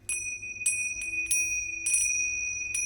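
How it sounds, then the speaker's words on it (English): Bells are played during a live stream, a handful of clear bright chimes struck in an irregular rhythm, each ringing with a sustained tone and no talking. "I'll play some bells for you since you were asleep"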